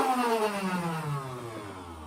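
A Nerf Rival Khaos blaster with its rate dial at the minimum setting whirs as it fires, a steady motorized hum whose pitch slowly falls, loud and close, with no talking.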